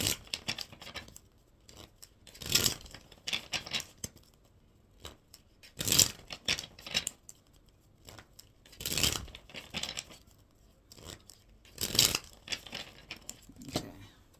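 Tarot cards being shuffled during a reading, heard as four separate bursts of riffling and flapping spaced a few seconds apart, fairly close and quiet, with no talking.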